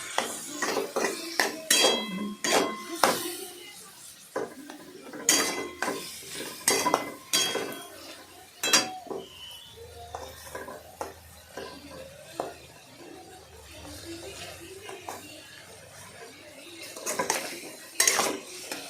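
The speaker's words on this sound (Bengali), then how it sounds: "তারপর তার মধ্যে অল্প পরিমাণে জল দিয়ে ভালোভাবে নাড়াবেন" Amodee fish curry being stirred in a pot after water is added: a spoon clanks and scrapes against the metal in quick irregular bursts over a faint bubbling sizzle, with occasional quiet talk.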